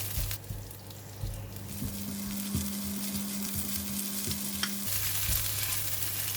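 Belacan shrimp paste sizzles in hot cooking oil, a steady crackling fry with repeated spatula scrapes and taps as it is stirred, plus a faint low electrical hum underneath for most of the stretch.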